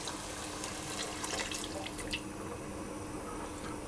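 Stock pours into a pan of softened onions with bay leaves, a soft, steady liquid trickle and splash that eases off after about two seconds.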